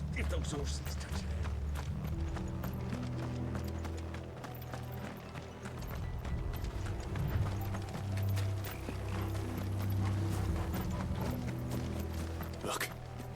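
Horses' hooves clip-clop in Final Fantasy XVI, a steady run of close hoofbeats with creaking mechanisms under game music and spoken dialogue.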